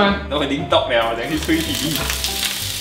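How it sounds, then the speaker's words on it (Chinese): Eggs sizzle loudly as they are stir-fried in a pan for a giant instant-noodle dish, a close, steady frying crackle under people talking. "先翻炒一下我们的蛋。"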